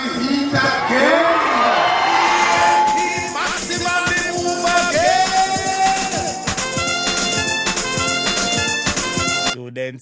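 A large crowd at a PNP political rally cheers, shouts and whoops loudly and continuously, with horn-like tones and music mixed into the dense, close roar.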